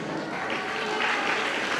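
A graduation audience applauds a graduate named in absentia, a brief steady patter of clapping filling the room with no break.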